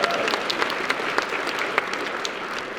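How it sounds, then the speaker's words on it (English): Town hall audience in Framingham, Massachusetts, breaking into applause at a senator's event, a dense steady wash of many hands clapping with no speech over it. "we can clap for that."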